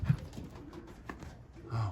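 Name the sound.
racing pigeons cooing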